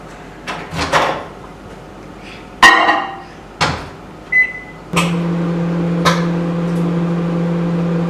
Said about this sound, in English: Let's microwave her.